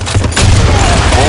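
A grenade bursts in the online shooter Blackshot on the Sand Storm map, a loud, close boom with crackling gunfire layered over it. A game announcer voice is heard along with it.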